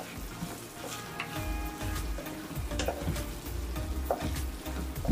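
Spoon stirring prawn curry with fresh coriander in a pan, with a soft continuous sizzle under irregular scraping and clinking strokes, close and alone, no talk.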